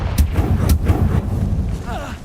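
Confringo fire spell cast in Hogwarts Legacy, a quick series of punchy blasts and crackling impacts over a couple of seconds, loud and close, with a voice speaking over it.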